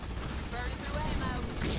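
Dense combat gunfire in the Halo Wars 2 video game, a continuous loud rattle of overlapping shots and battle noise with no clear gaps, filling the short stretch throughout.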